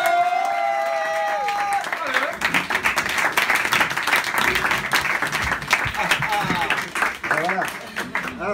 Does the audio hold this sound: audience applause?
yes